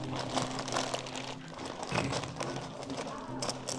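A takeout bag holding a seafood bowl crinkles and rustles in continuous close crackles, with a voice sounding low underneath.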